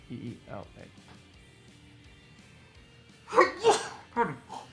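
A couple of sharp, explosive sneezes burst out close by in quick succession after a moment of quiet, with a bit of talking at the start.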